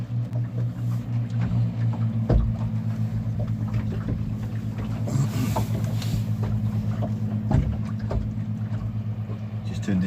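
A steady, droning boat engine hum with a low tonal throb runs throughout, sounding some distance off at sea off Swansea, with occasional faint clicks and knocks over the drone.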